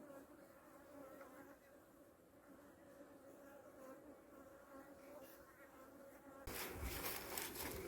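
Honey bees buzz around a hive in a beeyard, a steady close hum throughout, with a louder burst of rustling and buzzing near the end.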